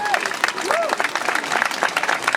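An audience applauding after a protest speech at an End SARS rally in Liverpool, scattered hand claps building into steady clapping from a crowd, close by, with a voice talking over it.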